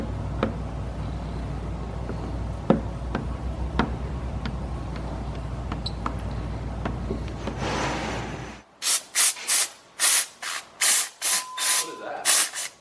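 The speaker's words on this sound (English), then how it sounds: "Steamer. Steamer. Help soften it a little bit." A steamer runs on paint protection film on a GT3RS, giving a steady hiss with small clicks. It stops abruptly and is followed by short bursts of spray and voices.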